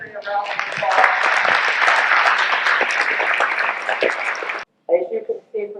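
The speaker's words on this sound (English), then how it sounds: "Everybody give Avery a round of applause." Luncheon audience at a Wayne County Bicentennial event applauds for Avery, a dense, steady wash of clapping for about four and a half seconds that cuts off abruptly, followed by brief bits of nearby talk.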